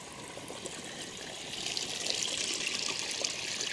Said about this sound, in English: this real nice flow here from the spring. There it is coming out of the side of the mountain